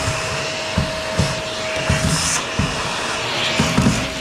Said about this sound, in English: I'm gonna get a vacuum real quick.